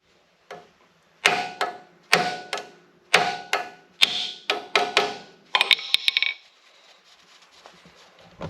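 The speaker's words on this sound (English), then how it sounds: "want to grab a hammer and hit that a few licks" Hammer blows striking the front axle seal of a Kioti CK2610 tractor, about nine sharp metallic knocks in an uneven rhythm, close and loud, followed by faint rattling and shuffling.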